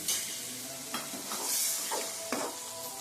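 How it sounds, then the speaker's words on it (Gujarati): Ajwain leaf curry sizzling in a pan as water is poured in, a steady broadband hiss with a few short stirring scrapes, close and moderately loud, no voices. "હવે આપણે આમાં થોડુંક પાણી નાખી દઈએ"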